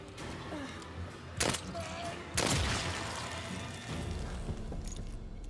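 Gunshots ring out in The Evil Within 2, with two loud, sharp blasts standing out against a busy, rumbling game soundscape.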